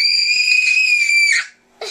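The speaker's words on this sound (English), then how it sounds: "That was like a really high scream." A child screams at a very high, piercing pitch, one sustained and loud cry lasting over a second, then a brief pause before another scream begins.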